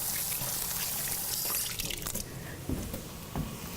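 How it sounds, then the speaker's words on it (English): Hands being washed under a running kitchen tap while cooking meatball Parmesan, a close splashing and trickling of water that thins out and turns patchy partway through, with scattered drips and small knocks. "So I'll move that over here and wash my hands a minute."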